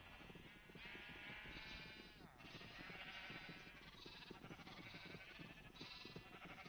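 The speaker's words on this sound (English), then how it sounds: "I can't move, there's too many sheep!" Crowded Minecraft sheep bleat constantly in overlapping, wavering calls, a dense flock pressing in close, with a voice talking faintly underneath.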